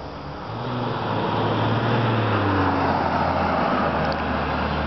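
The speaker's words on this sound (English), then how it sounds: "Here comes another car." A car passes along a residential street, its engine and tire noise swelling from quiet to a loud, steady rush and holding near as it goes by.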